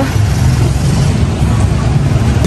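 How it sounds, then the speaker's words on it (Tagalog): A motorcycle engine rumbles loudly and close at a low idle while being parked, a steady throaty drone with no break. "Magpapark lang po si Papa ng motor"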